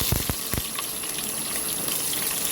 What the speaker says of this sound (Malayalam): ഒരു അര ടീസ്പൂണ് കടുക് ഇടുക ഇനി ഇതൊന്ന് പൊട്ടി വരട്ടെ